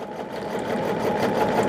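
A sewing machine runs steadily while stitching a quilt block for a diamond-pattern calendar quilt, a close, rapid, even mechanical whir and patter that holds for the whole moment.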